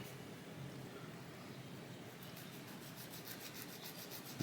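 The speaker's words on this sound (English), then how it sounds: "we're going to sand the top of it a little bit" A small plastic model ship part for a 1/200 USS Fletcher destroyer being gently sanded, a soft, steady rubbing rasp that turns into a quicker rhythmic scraping near the end, close and quiet.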